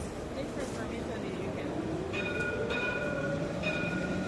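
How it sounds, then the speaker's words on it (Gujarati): A train rumbles past with a steady heavy roar, and a few high horn-like tones sound near the end. "ટ્રેન આવે છે"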